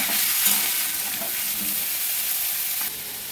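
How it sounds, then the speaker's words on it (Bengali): Potato, eggplant and taro fry with salt and turmeric, giving a loud, close, continuous sizzle with faint stirring scrapes, then easing slightly toward the end, with no one talking. "চলো লবণ হলুদ দিয়ে একটু ভেজে"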